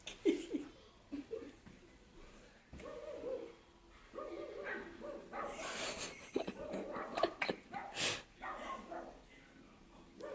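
Dogs bark, yip and whimper in bursts at a turtle, with laughter and voices mixed in around them.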